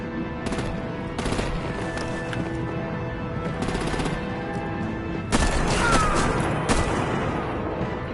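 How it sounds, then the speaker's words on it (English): Rapid machine-gun bursts and scattered gunshots in the Batman The Enemy Within game, a sustained loud fusillade that swells into heavier, denser firing partway through. "Break out the artillery and disable their vehicles!"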